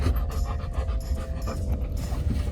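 A dog pants steadily and close by inside a pickup truck, quick rhythmic breaths running the whole time with no one talking.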